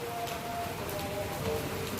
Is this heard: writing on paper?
no